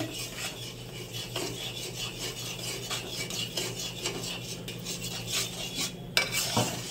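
Milk powder mixture being stirred in a pan for milk cake, a steady scraping and rubbing of a spoon against the pan, continuous and close, with a sharper knock near the end.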